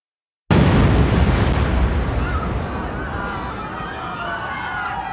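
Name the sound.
bomb explosion, World Trade Center 1993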